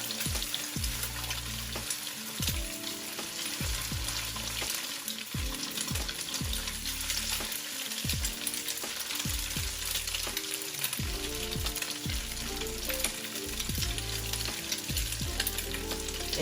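Eggs being scrambled for fried rice in a hot pan, sizzling constantly while a utensil stirs and scrapes in repeated strokes, close and fairly quiet.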